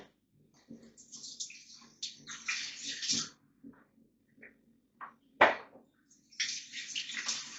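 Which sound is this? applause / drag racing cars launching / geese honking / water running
water running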